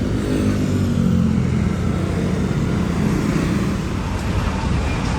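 Traffic on a Manila street near City Hall, with a loud, continuous engine rumble and road noise from cars and motorcycles passing close by and no break in the flow.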